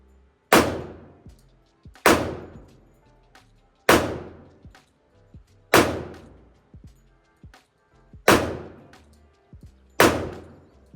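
Six evenly spaced pistol shots from a brand new RIA FS A1 1911, each a sharp close crack with a short ringing tail, fired at a slow deliberate pace of roughly one every one and a half seconds.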